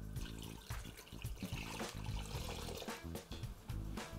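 Water poured steadily into a saucepan already holding sugar to make syrup, a close, continuous splashing trickle with no talk.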